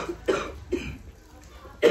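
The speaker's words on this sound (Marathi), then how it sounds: "का ग, खोकला काय?" A person coughs a few times nearby, short separate bursts spaced apart with a quiet pause between, and no speech over them.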